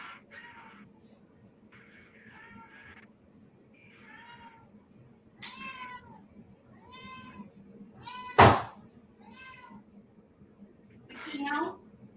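A cat meows repeatedly, several short calls and one louder yowl near the end, with a sharp bump partway through.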